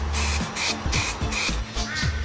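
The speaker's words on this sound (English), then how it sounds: "Hold the can about 20 centimeters away and spray on multiple light coats." An aerosol paint can hisses in several short bursts onto a helmet, about five sprays in quick succession, close and fairly loud.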